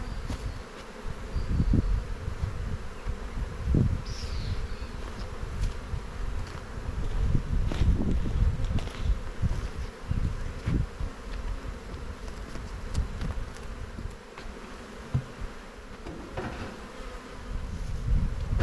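Honey bees swarm around an open hive during a spring colony inspection, a dense continuous buzzing at moderate level with occasional louder passes close to the microphone and faint handling bumps.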